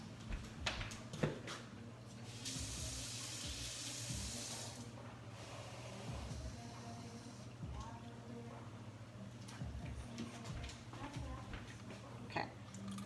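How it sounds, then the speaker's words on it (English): A kitchen tap runs cold water into a food processor bowl, a steady close gush with a brief louder splashing stretch, a low hum beneath and a person talking over it. "I'm gonna go take this and fill it with cold water"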